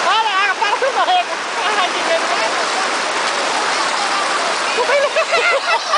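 Water rushing at the Itariri waterfall, a steady broadband roar close by that fills the whole clip while people talk over it.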